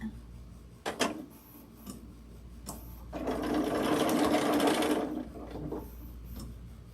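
Sewing machine topstitching a tote bag with the lining kept out of the stitch, running in a steady buzzing burst of about two seconds after a few short start-and-stop clicks.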